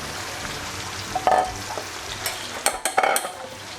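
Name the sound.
frying Thai fermented beef (naem) and beef ribs in oil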